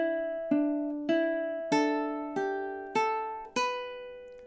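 Ukulele picking a slow melody line from a Witcher tune, six plucked notes spaced about half a second apart, each ringing bright and close before decaying, played alone.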